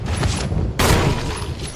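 Gunshots ring out in Resident Evil HD Remastered during a zombie dog attack, a loud close shot cutting in sharply midway over constant in-game noise.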